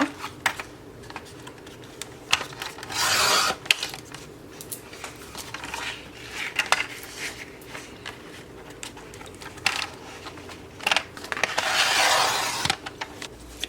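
Sheets of painted paper for spring greeting card backgrounds are cut close by, giving quiet, scattered snipping and rustling, with two longer swells of cutting noise.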